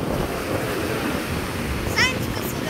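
Waves wash steadily onto a crowded beach on the Sea of Azov with a constant rushing surf and some wind noise on the microphone. A brief voice cuts in near the end.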